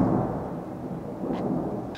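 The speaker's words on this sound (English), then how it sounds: "The thunder was getting quite loud and I had to shut down the video." Steady heavy rain with a distant rumble of thunder during a storm, a broad constant wash of noise with faint rolling low tones and no talking.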